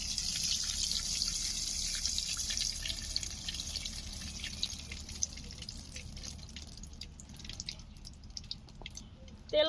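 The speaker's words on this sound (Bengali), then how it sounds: "কড়াইতে দিয়ে দিচ্ছি সরিষার তেল।" Mustard oil poured into a wok while cooking young jackfruit with chicken makes a steady close trickle with dripping, continuing throughout with no talking.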